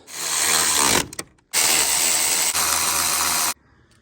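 Impact wrench or power tool tightening a bolt on a BMW 5 Series G30 front strut while lowering springs are installed: a loud whirring burst, a short pause, then a second sustained two-second run that cuts off sharply.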